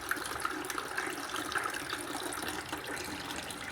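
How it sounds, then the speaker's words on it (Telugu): Water runs steadily into a drinking glass, a continuous close pouring and trickling sound with no talk over it. "మనం ఫుల్ ఆఫ్ గ్లాస్ వాటర్ అయితే నింపేసాం."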